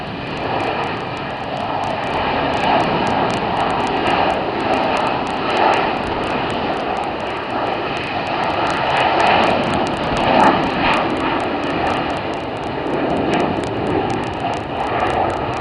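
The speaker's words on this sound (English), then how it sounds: "Let's just wait till the jets are in front of us over there." Jet airplanes at Tampa International Airport roar steadily and loudly, a broad sustained engine rumble and hiss lasting throughout with no talking.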